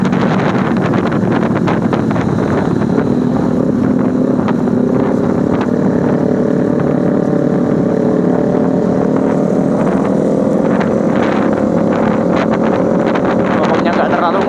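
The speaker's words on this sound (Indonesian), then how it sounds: "berisik suara knalpot ya cuy ya" Loud motorcycle exhausts roar during a crowded Sunday-morning ride gathering on a grassy field in Palembang, a continuous, heavy engine drone with rising revs and wind buffeting across the microphone, close and dominant throughout.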